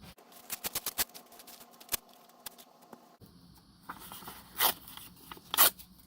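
Paper scraps being trimmed for a junk journal: a run of crisp, close snipping clicks, then a pause and softer rustling and scraping with a few louder sharp cuts, all quiet and with no voices.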